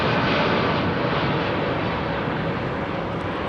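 A Korean Air Boeing 747 departs London Heathrow, its engines producing a loud, steady, broad roar that fills the whole moment without letup.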